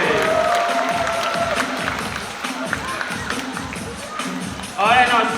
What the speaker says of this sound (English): How about another big round of applause for California sea lion today?